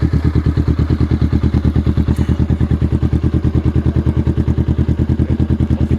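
A Kawasaki ZX25R motorcycle with an aftermarket exhaust idles close by, a loud, rapid, even pulsing throb that stays steady from start to finish.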